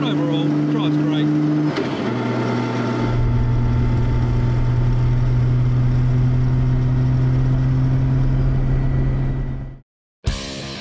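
A Nissan Skyline GT-R with a concrete-filled RB30 engine drives along, a loud steady engine drone that shifts pitch once early on, then holds before cutting out abruptly near the end, with a voice talking over it.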